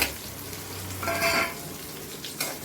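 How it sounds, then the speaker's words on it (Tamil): Chicken with onions and pepper frying in a pan to a dark colour, giving a steady close sizzle with brief stirring scrapes and no talking. "கருப்பாக இருந்தன்னைக்கு வறுத்துக்கணும்."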